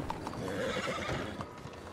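Horse in the Red Dead Redemption 2 western setting, heard as faint clip-clop hoofbeats with a short whinny, quiet and somewhat distant under low background noise.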